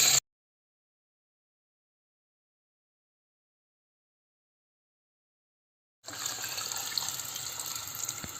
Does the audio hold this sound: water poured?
yes